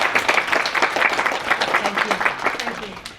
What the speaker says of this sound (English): I think she deserves another round of applause because that was stunning